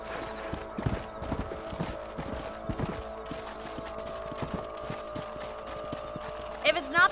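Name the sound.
horse hooves clip-clop, from a video game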